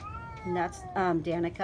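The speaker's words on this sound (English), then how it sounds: "Sorry, he's gonna meow a lot." An indoor house cat meows repeatedly, several drawn-out, rising meows close by, while someone talks over and between them.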